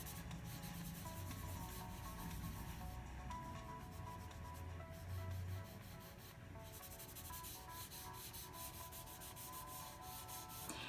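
Steady rubbing and polishing strokes across a shaded drawing, as material is pulled and buffed side to side on paper, a continuous close, soft scraping texture with no voices.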